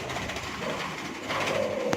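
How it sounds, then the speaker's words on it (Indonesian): A moka-variety zebra dove (perkutut) coos softly at a bird breeding farm in Indramayu, a few low, brief coos over a steady background hum. "Ini burung moka."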